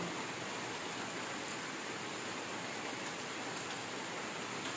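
Rain falling steadily outdoors in a rural farm setting, a soft, even hiss with no breaks, faint and distant-sounding, no voices.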